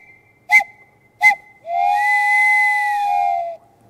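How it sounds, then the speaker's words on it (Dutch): Two short sharp whistle blasts from a steam locomotive, then one long sustained tone that holds for about two seconds before cutting off, loud and clear with no talking. "Ook de stoomlocomotief kon seinen geven, gewoon door te fluiten."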